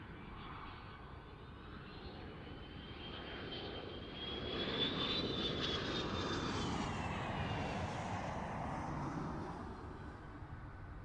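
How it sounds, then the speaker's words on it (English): An aircraft's thrust reversers deploy just after landing at Farnborough International Airshow 2016, a broad, distant engine roar that swells and holds steady, then eases off. "There go the reversers."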